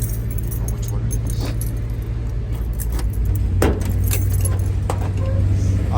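Keys jangle and clink near a 1968 Chevrolet Camaro convertible as its trunk is opened, with light metallic rattles over a low steady background hum and a few soft thumps.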